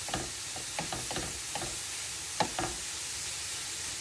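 Carrots are lightly sautéed in a pan, giving a soft, steady sizzle broken by scattered scraping taps of a spoon stirring against the pan, quiet and close.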